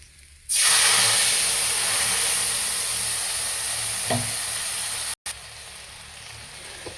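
Hilsa fish frying in a pan of hot oil, a loud steady broadband sizzle that starts abruptly and holds continuously, with a brief stir or clatter midway and a short dropout near the end.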